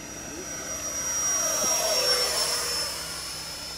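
Xane Camo MB-339 50mm RC electric ducted fan jet making a low pass at half throttle, its steady whooshing whine swelling as it nears and fading again, with a voice faintly underneath.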